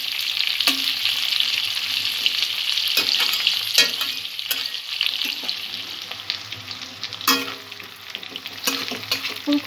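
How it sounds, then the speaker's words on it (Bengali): Cauliflower florets lightly frying in oil in a pan for a prawn korma, a bright continuous sizzle close by with repeated scraping stirs and occasional clatters of the spatula. "ফুলকপিটা আমি হালকা করে ভেজে নেব।"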